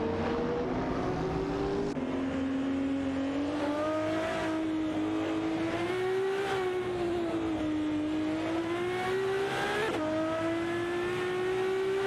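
Racing-game engines of a Porsche 911 991 GT3 RS and a Zenvo in a close duel, a steady droning whine that rises and falls with each shift, continuous and fairly loud, with no voices.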